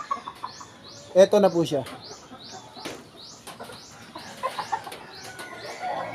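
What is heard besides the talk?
Spartan black gamefowl rooster clucking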